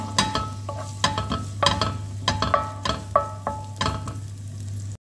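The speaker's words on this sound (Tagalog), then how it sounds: "Igisa muna natin yung ating luya hanggang sa bumango." Ginger sautés in oil in a pan, with a soft, steady sizzle under repeated metallic scrapes and taps of a utensil stirring against the pan.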